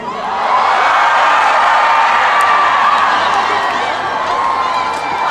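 A large concert crowd at the Chungju Dive Festival cheers and screams in one loud, sustained roar that swells in and holds steady, with scattered whoops and no clear speech.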